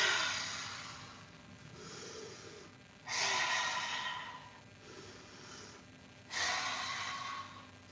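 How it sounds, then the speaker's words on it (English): A yoga instructor's slow, deep breathing during a gentle morning session, with three long, airy breaths heard close and soft, each swelling into a rushing exhale and then fading into quiet pauses. "Listen to my breath."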